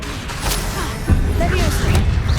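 Confringo fire spell blast in Hogwarts Legacy on PS5: a sudden loud burst with a low rumble about midway, set within a steady bed of combat noise, effects and voices.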